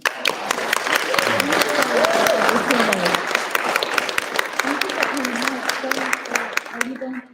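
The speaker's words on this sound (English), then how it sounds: "Why don't you give these ladies a huge hand clap?" Audience gives a loud, sustained round of applause and clapping for the women guests on a Dragon Ball Z convention panel, with voices and crowd chatter mixed in throughout.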